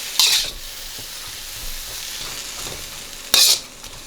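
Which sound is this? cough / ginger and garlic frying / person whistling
ginger and garlic frying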